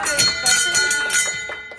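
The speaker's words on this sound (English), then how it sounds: "Super exciting, get to ring the bell." A bell rings repeatedly in quick, bright strikes, ringing tones overlapping as several clangs follow one another close by, rung by a patient marking the final round of radiation treatment.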